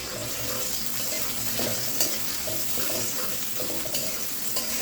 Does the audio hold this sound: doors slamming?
no